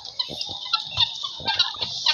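Close, chattering calls of turkeys and guinea fowl, sharp high chirps and gobbling notes repeating in quick irregular bursts, no talking.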